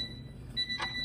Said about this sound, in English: You can hear the buzzer.